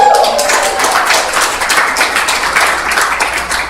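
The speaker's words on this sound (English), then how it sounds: "Give yourselves another round of applause." Loud, dense applause from an audience of workshop participants fills the whole stretch, steady clapping with little variation and no voices on top.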